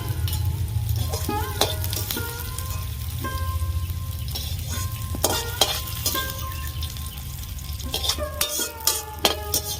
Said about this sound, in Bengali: পেঁয়াজ আমি বেশি ভাজবো না পেঁয়াজ ভাজা হয়ে গেছে তুলে নেবো অল্প ভেজেছি